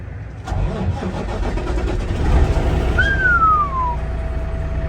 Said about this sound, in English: if this old 386 will start up for us